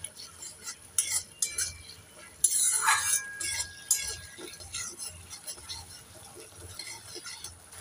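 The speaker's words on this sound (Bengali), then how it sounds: "এবার আমি নেড়ে চেড়ে মশলাটাকে 3 মিনিট ভালোভাবে কষিয়ে নেব।" Spoon clinking and scraping in a pan as spice masala fries for a thin bhindi and potato curry, light metallic stirring knocks with a soft sizzle beneath, a louder scrape in the middle, under talking.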